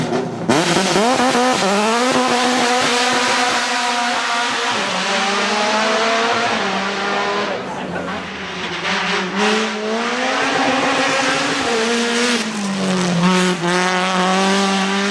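A Caterham classic-styled lightweight sports car with a six-speed sequential manual gearbox, its engine loudly revving and pulling through rising, dipping pitches as it accelerates close by, continuous and raw with no talk.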